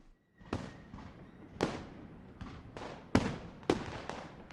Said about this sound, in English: Fireworks crackled and guns banged